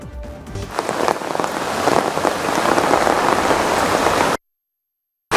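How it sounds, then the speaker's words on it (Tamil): Heavy rain from Cyclone Ditwah falls in Nagapattinam, a dense, loud, continuous downpour drumming on surfaces for over four seconds before cutting abruptly to silence. "நாகப்பட்டினம் மாவட்டத்தில் பரவலாக கனமழையானது பெய்து வருகிறது"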